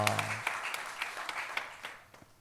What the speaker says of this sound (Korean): 여러분 목소리가 들릴 정도로 함성과 함께 박수!